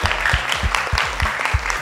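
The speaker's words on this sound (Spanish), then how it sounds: "Un aplauso para María José." Applause from a children's singing-contest audience, a short burst of clapping over a musical backing with a pulsing rhythmic beat.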